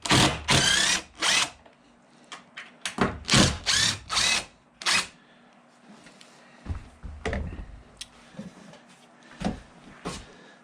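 A power drill runs in repeated short bursts while backing two screws out of a board on a wooden St Lawrence skiff, each whir separated by quiet gaps, with some light knocks and handling noise in between.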